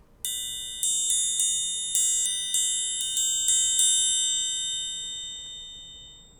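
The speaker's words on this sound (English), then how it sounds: "Exactly, it's a triangle." A triangle struck with a beater rings out in a series of about ten bright metallic hits, each ringing on and overlapping before a long, shimmering decay fades out alone.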